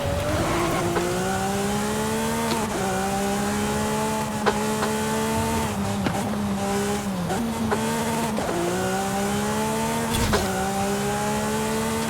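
Lotus Elise S 2012 engine in Forza Horizon 5, loud and steady with clear rising and falling revs through gear changes, plus brief tire squeals, heard alone throughout.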